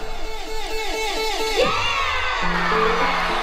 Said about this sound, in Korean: 마지막까지 이어지는 환호와 박수.